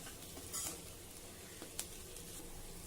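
Ivy gourd (tondli) stir-fried in a pan with crushed peanut powder, a faint steady sizzle broken by a few soft scraping stirs and a light clink near the end, no voices.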